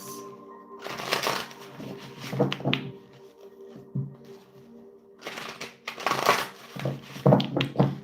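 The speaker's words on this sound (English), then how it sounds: "2 more shuffles" Two bursts of rapid riffling card shuffles, crisp and close, separated by a quieter pause with faint background hum.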